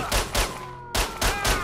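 Gunfire in STALKER, a video game: sharp bursts of rapid shots in two clusters separated by a short pause, loud and close.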